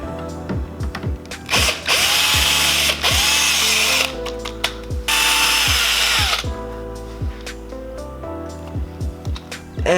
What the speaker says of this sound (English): I have to move my tire so I can get the power drill inside the wheel well.